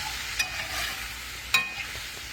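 Hamburger steaks fry in a pan with a steady, close sizzling hiss, broken by two sharp scraping clicks; no one speaks.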